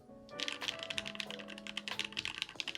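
Typing on a rebuilt ikki68 mechanical keyboard with linear switches and its dampening removed, a brisk, steady run of close, crisp clacks with sharp individual key strikes, no talk.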